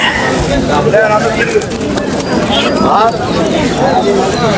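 Pigeons coo at a busy Thursday pigeon market in Nazirpur bazaar, their soft repeated calls rising in bursts through steady crowd noise and near, continuous bargaining voices.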